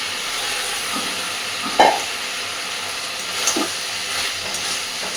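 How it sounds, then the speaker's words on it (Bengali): Fried soy pakoras tipped into a hot pan and stirred, giving a loud, continuous sizzle and hiss with a sharp scrape or clatter near the start and a softer stir later. "এইবার সমস্ত ভেজে রাখা সয়া পকোড়াগুলো এর মধ্যে দিয়ে দিচ্ছি।"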